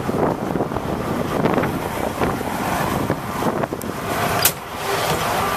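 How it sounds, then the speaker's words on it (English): Strong gusting wind buffets an outdoor microphone in a steady, loud roar that swells and dips, with no speech over it. "I know my mic doesn't like the wind"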